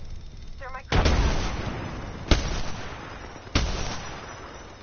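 Grenade blasts and gunfire in the Apex Legends battle royale game: three heavy booming explosions a second or so apart, each with a rumbling tail, following a brief electronic beep.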